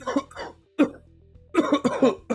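Several sharp, close coughs come in quick bursts, a short pair, a lone hack, then a tight cluster of three or four, with quiet gaps between and no speech.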